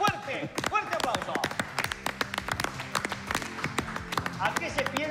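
Audience clapping for Dr. Álvaro Villar Ballesteros, a Montevideo mayoral candidate, on a talk show set in a bar: a burst of loud, uneven hand claps with sharp individual slaps, mixed with voices and continuing throughout.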